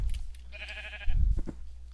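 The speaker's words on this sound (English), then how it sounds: "He's apparently shearing a sheep." Sheep bleats once in a Minecraft game with the Millenaire mod while being sheared, a short wavering cry in the middle, followed by a couple of soft thuds over a low background hum.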